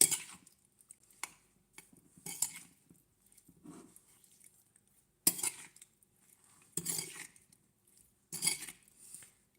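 A sesame oil sauce is mixed in a bowl, heard as bursts of metal utensil clinks and scrapes against the dish, separated by short quiet pauses.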